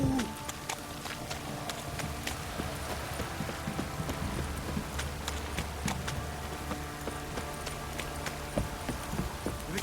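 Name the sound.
horses' hooves clip-clopping in video game The Witcher 3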